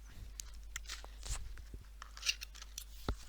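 Scissors snip and cut through a cardboard toy box for Wilko Blox building sets, a series of short, sharp crunching cuts and rustles at close range with no talking.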